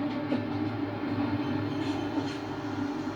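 A diesel train runs along the rails with a steady, close, continuous rumble and rolling clatter that stays even throughout, with no voices.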